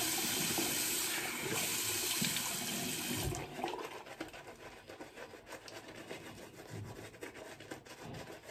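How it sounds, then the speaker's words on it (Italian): Water taken from a tap and poured during shaving preparation on a pig carcass, a loud continuous gush for a few seconds, then quieter scraping and trickling sounds nearby. "Prendiamo un po' d'acqua."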